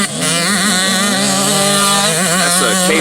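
A KTM 85 motocross bike revs hard at a practice track, its buzzing two-stroke note loud and close, with pitch climbing and wavering throughout.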